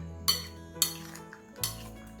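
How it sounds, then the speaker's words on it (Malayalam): Cooked vegetables are stirred into a dish, with three sharp clinks of a metal utensil against the pan spaced about half a second apart, over a quiet background. "ഈ വേവിച്ച് വെച്ചിരിക്കുന്ന വെജിറ്റബിൾസ് ഇതിലേക്ക് ഇട്ട് കൊടുക്കണം. ഇനി ഇതുപോലെ ഒന്ന് മിക്സ് ചെയ്ത് കൊടുക്കാം."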